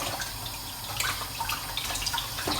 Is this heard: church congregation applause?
no